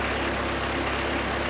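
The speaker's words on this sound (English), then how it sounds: "Indicates that the engine is warmed and ready to go." Engine of an MPA vehicle running just after start-up, a steady low idling hum that stays even and continuous throughout, with no talk.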